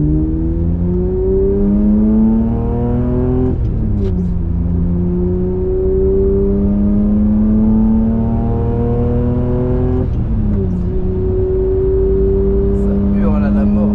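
A BMW 850 CI V12 revving hard through the gears, its loud howling tone climbing steadily, dropping briefly at two shifts, then climbing again, close and dominant for the whole stretch.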